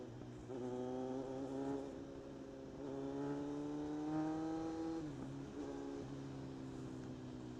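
Kawasaki Z900 motorcycle engine under braking, a steady droning growl whose pitch sags and wavers as the bike slows, fairly loud and continuous with no voices.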